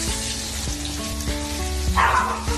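Sliced onion dropped into hot oil in a pan, a loud, steady sizzle and crackle, with a faint rhythmic ticking behind it and a brighter hiss swelling near the end.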